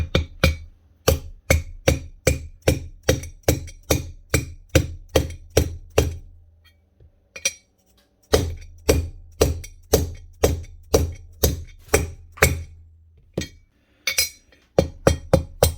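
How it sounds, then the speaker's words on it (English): A hammer taps a bearing into the aluminium housing of a Bosch GSH 11 E demolition hammer, a long run of sharp, ringing metallic strikes in steady rhythm with a short pause midway, close and loud. "Just keep tapping all the way around until you hear the tone change and you know the bearing's seated"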